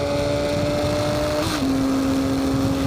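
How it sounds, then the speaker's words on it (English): A small, high-revving carbureted motorcycle engine rated around 44 horsepower at 14,500 RPM holds a loud, steady buzzing drone that shifts pitch midway as the revs change, with no talking. "this revvy little engine is an absolute wonder. It sounds like you're at a racetrack"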